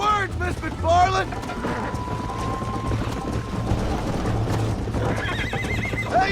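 Horse galloping in Red Dead Redemption during a race, steady hoof clip-clop under whinnies and a voice shouting, with a sustained tone running through the middle.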